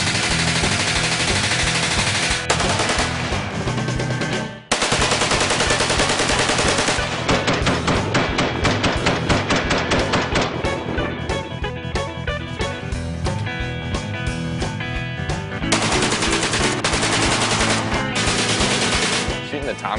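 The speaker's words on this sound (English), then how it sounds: "Shooting the Tommy guns were pretty cool." Tommy guns firing in long automatic bursts, loud and close, with dense rapid reports that continue almost without a break and a short pause near the start.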